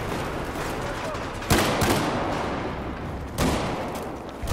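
Battlefield 4 firefight with shotgun blasts: two sharp, loud booming shots stand out about two seconds apart over a continuous bed of background gunfire and battle noise.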